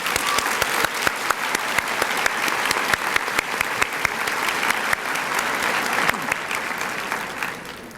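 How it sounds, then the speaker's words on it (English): An audience applauds author Daniel James Brown at an event in New Castle County, with steady, dense clapping that holds loud and continuous before easing slightly at the end. "So let's give him another round of applause."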